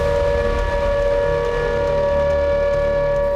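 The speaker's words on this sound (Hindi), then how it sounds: "तालिन में अचानक एयर रेड अलर्ट के सायरन गूंजने लगे।" An air raid siren in Tallinn, Estonia sounds a long, steady, loud tone that drones without a break over low background rumble.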